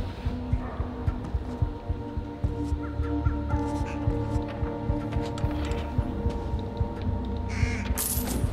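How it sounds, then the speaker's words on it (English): Crow-like caws from a bird in the stealth video game Thief, several short calls repeating at intervals over a steady game ambience with mechanical ticking and a low hum, fairly close. "there's a bird."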